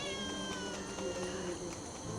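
A hungry cat meows faintly at a villa in Nagaon, repeated soft calls under a constant hum of insects and other background sound.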